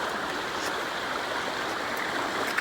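A creek running high after a flood rushes steadily with broadband turbulent water noise, close and continuous with no gaps.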